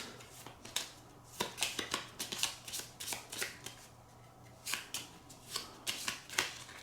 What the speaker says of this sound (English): And then we'll shuffle the rest of the cards.